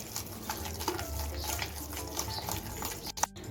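Yogurt being whisked by hand in a bowl, a steady run of soft stirring and scraping strokes at close range, with a couple of sharper taps near the end.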